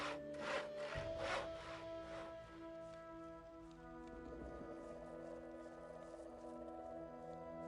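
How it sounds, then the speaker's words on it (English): Logs being sawn in the video game Chronicles of Myrtana: Archolos: steady rasping saw strokes, rhythmic at first and then a continuous scraping drone, with no talk. "if you're just gonna put me to sawing logs"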